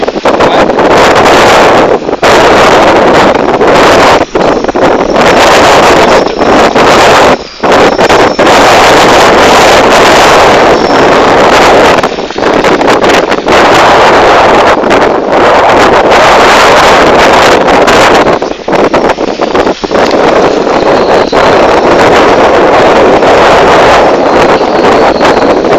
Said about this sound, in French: Désolé pour le vent.